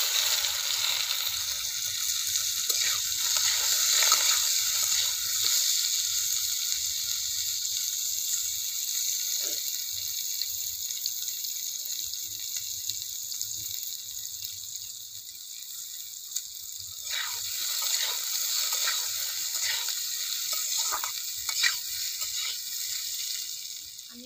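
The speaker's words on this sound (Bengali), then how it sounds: "এবার ওই তেলেই আমি আলুগুলোকে একটু ভেজে নেব।" Potatoes fry in the oil left after browning cabbage, a steady moderate sizzle with faint stirring scrapes and occasional soft clinks, fairly close and sustained with no talk.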